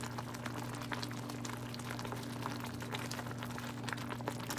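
Green chili sauce with tortilla chilaquiles boils in a pan, a steady low bubbling and faint popping over a constant hum, close and quiet throughout.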